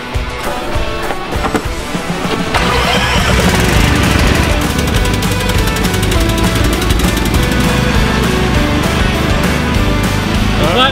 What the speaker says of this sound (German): So ein Aufsitzmäher ist echt der Hammer.